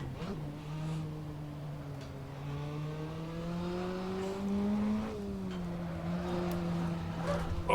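A Praga race car in Assetto Corsa, the engine note holding a steady tone that climbs slowly under power, dips briefly at a gear change, then climbs again, close and continuous.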